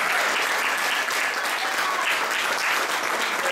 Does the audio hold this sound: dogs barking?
no